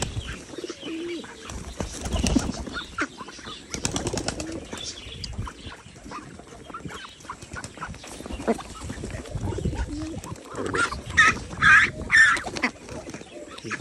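Village ducks quack and flap around while being hand-fed, a busy cluster of calls and wing flutters building to louder bursts near the end, with faint rustling throughout.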